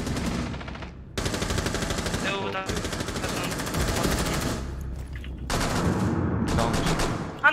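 Rapid bursts of automatic gunfire from Tom Clancy's Rainbow 6 Patriots, loud and sustained with brief pauses between volleys.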